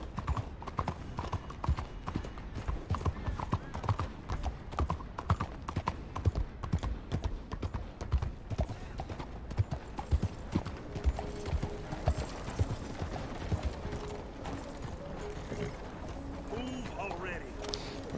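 A horse's hooves clip-clop steadily in the video game Red Dead Redemption 2. The footfalls are close, rhythmic and continuous, with some talking alongside.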